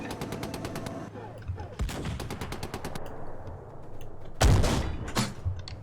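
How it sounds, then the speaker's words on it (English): Automatic and heavy gunfire rattles through a tank combat video game, with bursts of rapid shots and a loud blast near the end, all over a steady low rumble of battle. "Something's still firing back there."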